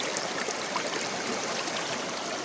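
Water rushes steadily through a prospecting sluice on Pennsylvania glacial till, a continuous, fairly quiet trickling wash without a break.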